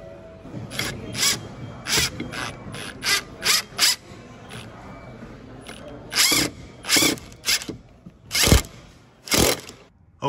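A Ryobi power drill drives machine screws in a series of short, whirring bursts separated by pauses, each spin loud and close with a ratcheting clutch edge.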